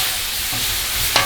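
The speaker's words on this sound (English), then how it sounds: "see that this bacon is cooking very well" Bacon frying on a Blackstone griddle over two burners at medium heat, a steady close sizzle with a brief scrape or clink near the end.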